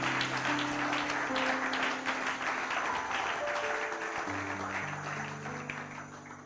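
A church congregation applauding together, sustained dense clapping with sustained organ or keyboard chords under it, fairly loud and gradually thinning toward the end.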